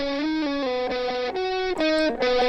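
Electric guitar mixed in FL Studio with a saturation plugin, playing a loud, sustained, distorted melodic line of held notes that change pitch every half second or so, rich in buzzy overtones, with no voices.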